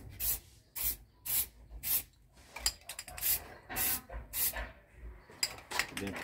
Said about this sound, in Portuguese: não fica passando muito spray num lugar só não, senão ele pode escorrer